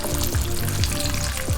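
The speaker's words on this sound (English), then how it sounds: "So the other batch is in here frying." Chicken tenders fry in hot oil with a continuous loud crackle and sizzle and a few low bubbling pops, close up and with no talking.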